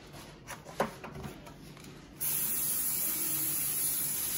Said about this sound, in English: Spray the pans.